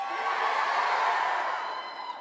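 Loud, sustained cheering and whooping fills a convention panel hall at PAX West, a thick crowd roar with occasional high screams that eases slightly near the end.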